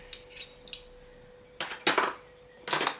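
Metal spoons rattle and clink in a kitchen cutlery drawer, a few light taps early on, then two louder bursts of jangling as the utensils are shuffled, close and alone with no talk.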